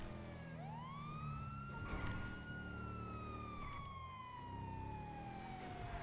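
A police siren in the video game GTA wails, rising sharply then holding a long drawn-out tone over a low engine rumble, loud and close.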